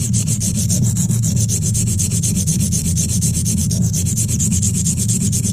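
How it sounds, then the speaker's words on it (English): A silicon carbide sharpening stone being worn down as a blade is sharpened on it, a loud continuous rhythmic rasping and scraping with quick regular back-and-forth strokes, heard alone. "that's from a fresh cut stone to now we're wearing it as we"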